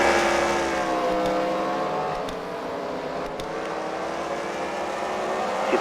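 Race cars roar through a first-round heat at CWRL Fight Night at The Freedom Factory, engines droning loud and steady with rising and falling pitch as cars circle, no talk over it.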